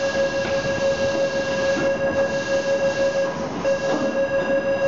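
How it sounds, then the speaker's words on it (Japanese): A Chiyoda Line 6000 series subway train pulls into Machiya station, its steady rolling rumble and electric whine sustained throughout, loud and close, with faint wheel squeal and no speech. "2番線に到着の電車は綾瀬行きです"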